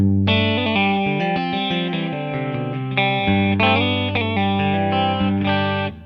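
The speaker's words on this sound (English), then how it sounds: "Here I can go into a bridge humbucker with a neck as a single coil." A PRS 35th Anniversary SE Custom 24 electric guitar, bridge humbucker with neck single coil, with a distorted, chorus-tinged tone playing sustained chords and notes, loud and continuous throughout.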